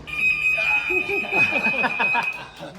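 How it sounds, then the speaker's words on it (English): A loud, shrill electronic alarm tone rings continuously, with some faint voices or laughter beneath it. "So again, this is a great alarm for you."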